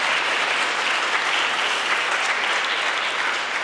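Sustained applause from an audience at a ceremony hall fills the space steadily, dense and even from start to finish, with no voices above it.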